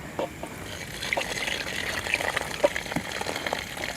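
Biryani rice washed in water while camping on a hill, with a close, continuous trickling and sloshing of water across the whole stretch and no one talking.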